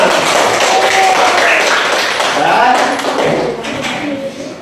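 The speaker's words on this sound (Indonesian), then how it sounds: "Semua tepuk tangan buat kita semua." Fifth-grade pupils in a classroom applaud together at the end of a maths geometry lesson, a dense, loud wash of clapping mixed with children's voices that holds steady before easing slightly toward the end.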